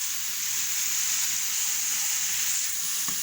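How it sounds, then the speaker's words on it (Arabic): Chopped chard fries in hot ghee with a steady, dense sizzle throughout, close and even, no voices over it. "احنا حطينا السمنه وحطينا عليها السلق"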